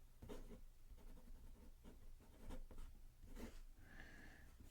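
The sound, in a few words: Montblanc 24 fountain pen nib writing on paper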